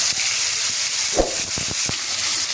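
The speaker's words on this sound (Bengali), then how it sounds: "এবার একটি প্যানে আমি সামান্য তেল দিয়ে দিলাম এবার এর মধ্যে ম্যারিনেট করে রাখা মুরগিটা দিয়ে দিব" Marinated chicken fries in a little oil in a pan with a loud, steady hiss close by, broken by a few scattered pops and crackles.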